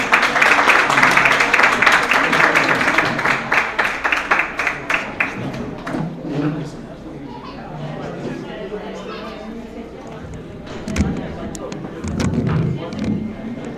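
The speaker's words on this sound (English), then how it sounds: "Please give him a big round of applause." A New Year celebration audience at a Kashmiri American Alliance opening ceremony applauds a guest speaker, with dense, rapid clapping for about five seconds that thins into scattered claps. Chatter and a voice continue after the applause fades.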